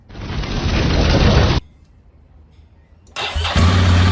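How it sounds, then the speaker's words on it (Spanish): A loud Ducati Monster 796 motorcycle engine runs roughly, cuts out into near silence for a moment, then restarts and settles into a steady, throaty idle. "Comenzamos arrancando la moto y esperamos unos minutos a que se caliente."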